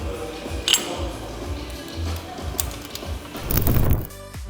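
Cable exercise machine pulleys and weight stack during an arm workout in a gym, giving a steady run of ratcheting, clinking mechanical clatter with a louder clank near the end, close by and without talk.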